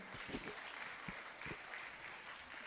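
An audience at a Christian fasting prayer gathering claps to welcome a speaker. The applause is steady and moderately distant, with faint voice sounds underneath.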